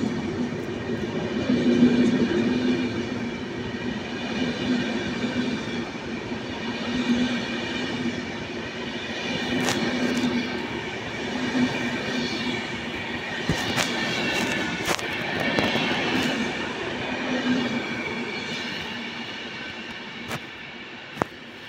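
Trains at Sopot railway station rumble past with a loud, continuous roar of wheels and carriages, a steady low hum and occasional sharp clanks, with no voices.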